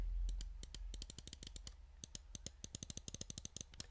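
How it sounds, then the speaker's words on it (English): Left and right button clicks on a Pulsar Xlite V2 gaming mouse, a long fast series of crisp, sharp clicks close up, steady and evenly spaced with brief pauses. "So let's get on to the click test and all of that stuff. Right and left click."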